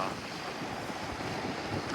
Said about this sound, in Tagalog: lakas kasi ng alon dito.